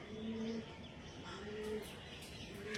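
Tippler pigeons of the Andhra type, kept for sale, coo softly in a low repeated murmur, two or three drawn-out calls spaced across a quiet, steady background.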